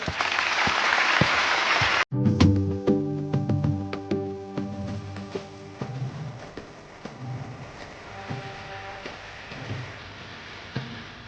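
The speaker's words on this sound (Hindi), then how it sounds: "तालियां।" An audience at a poetry recital breaks into loud clapping that bursts in after a brief gap. A musical tone rings under it, and the applause then thins into scattered, fading claps.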